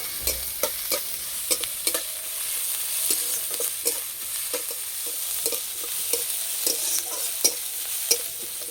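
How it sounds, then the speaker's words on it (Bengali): Chopped onion and chopped red chilli frying in two spoons of white oil in a kadai, a steady close sizzle broken by repeated sharp scrapes and clicks of a stirring spoon, with no talk. "পেঁয়াজ ভালো করে ভেজে নেব।"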